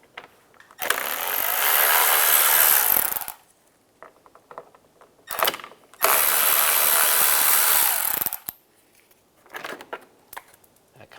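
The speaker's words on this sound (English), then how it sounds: "Using a T20 socket, take these two screws out." A power driver fitted with a T20 socket backs two screws out of a panel: two close, sustained whirring bursts of about two seconds each, with light clicks and handling noise between them.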